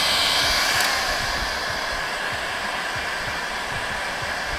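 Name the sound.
heat gun heating van roof parts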